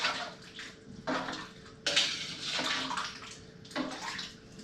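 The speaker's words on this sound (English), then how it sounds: "Let me wash my hands off." Hands washed under a running kitchen tap while chili is being cooked, a steady splashing water stream broken by several louder bursts as the hands move through it, close and loud with no talking.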